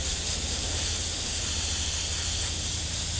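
Airbrush spraying a darker tone of paint around a bat artwork, a steady close airy hiss of compressed air held continuously without pause, with a faint low hum underneath.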